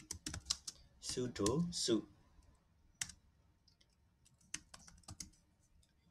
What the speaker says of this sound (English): You cannot see anything while you are typing in terminal passwords